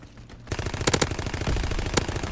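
Fighter pilot strafing run in Call of Duty WWII: after a brief lull, loud rapid machine-gun fire erupts and rattles steadily to the end, with a few sharper cracks mixed in.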